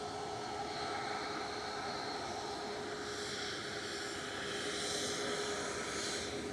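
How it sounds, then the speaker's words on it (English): A Ryanair jet departing Manchester Airport for Funchal makes a faint, steady engine rumble with a thin whine, continuous and distant throughout, with no voices. "Ryanair Flight 7 to Funchal, sending it back to Marco and Nelia"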